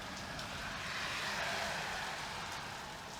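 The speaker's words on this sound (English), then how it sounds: "it's raining here in Middle Tennessee. I know there's a lot of it being caught on the audio" Steady rain falls in Middle Tennessee, a soft continuous hiss of drops on surfaces near a workshop, faint and unbroken with no voices.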